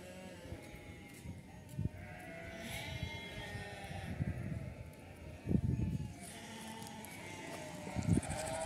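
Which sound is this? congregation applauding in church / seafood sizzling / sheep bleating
sheep bleating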